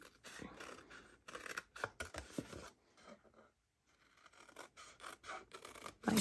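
Scissors cut score lines into cardstock for a cherry jam gift box, making faint, close snipping and scraping sounds in quick runs with a brief quiet gap midway.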